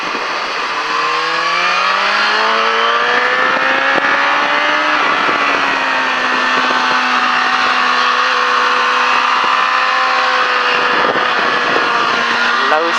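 A car drives hard around the La Ferté Gaucher race circuit during a driving course, its engine droning loud and close, pitch climbing through gears, then holding steady with brief dips.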